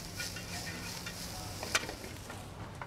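Potatoes fry until crisp in a very hot pan in a restaurant kitchen, giving a continuous close sizzle with light stirring scrapes and one sharp clink partway through.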